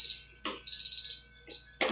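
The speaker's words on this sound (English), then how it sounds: "you gotta keep doing this until the timer shuts down and says you're done" A timer alarm for black-and-white film developing rings with a high-pitched, steady electronic beeping that repeats in short bursts, interrupted by brief bursts of handling noise.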